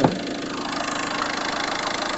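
A 2010 Peugeot 308 idles on a snowy day, its engine a steady, even hum heard up close after a brief click at the start.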